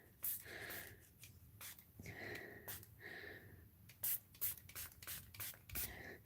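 Quick, breathy spritzes of walnut ink from a spray bottle onto fabric hiss out in short bursts, fairly quiet, with rustling and handling noises between them.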